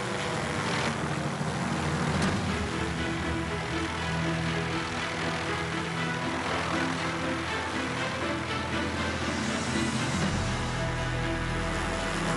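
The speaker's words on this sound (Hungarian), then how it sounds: "Helikopter, pipa." A helicopter flies overhead with a continuous, loud engine and rotor drone that stays strong throughout, its pitch and texture shifting slightly as it moves.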